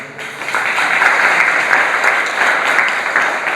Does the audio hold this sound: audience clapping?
yes